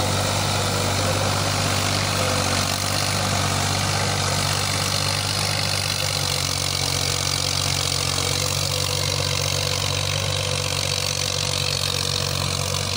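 A Massey Ferguson 240 tractor diesel engine idles steadily and close by, a constant low throbbing hum that holds an even level with no revving or pauses and no talk.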